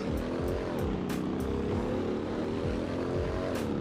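A Porsche Panamera in a driving video game accelerates toward top speed, its engine a steady, loud, continuous roar with rising harmonics and no one talking over it.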